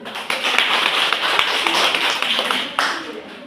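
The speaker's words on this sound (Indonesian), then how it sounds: "Tepuk tangan untuk Ira dulu." A classroom of primary-school pupils claps hands together in a dense, fairly loud burst lasting about two and a half seconds, then a short final flurry before it stops.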